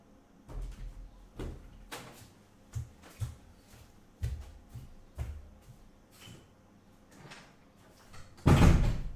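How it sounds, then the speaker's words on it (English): An office door being shut, a string of soft knocks and handling thuds that ends with one loud close thump, heard near and without talk. "I was just shutting the office door"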